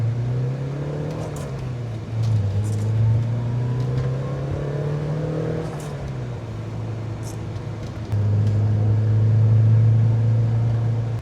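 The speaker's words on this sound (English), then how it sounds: "I'm gonna take Nathan on a drive in the 944." A Porsche 944's engine drones steadily from inside the car as it drives on wet streets, with the pitch rising and falling as it shifts and picks up speed, loudest near the end.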